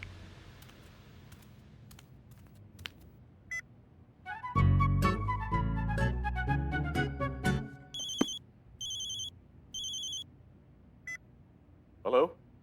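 Phone dialing tones play in a sequence, a dense run of rising dial tones followed by short repeated ringing pulses and a final squeal.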